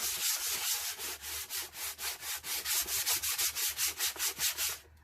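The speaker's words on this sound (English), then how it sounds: "then you can sand it some more" Hand sanding of a wooden cradle board, a rhythmic back-and-forth rasp repeating about three times a second, close and steady, then stopping abruptly near the end.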